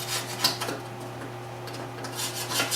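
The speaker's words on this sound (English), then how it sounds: "I'm just going to get the majority of this old grease and dirt off here" Old grease and dirt are scraped off an alternator in short rasping, scratchy strokes, close and fairly quiet over a low steady hum, with no talking.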